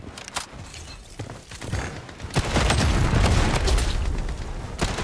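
Gunfire in the shooter Blood Strike crackles in scattered shots, then builds into dense, loud volleys and booms over the second half, with no talking heard.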